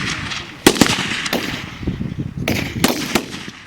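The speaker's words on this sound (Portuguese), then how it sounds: "Oficiais e sargentos da Marinha de Guerra de Moçambique envolvidos em aulas de prática de tiro." Gunshots ring out at a Mozambique Navy shooting practice at a military unit, with several sharp, loud reports spaced irregularly over a few seconds.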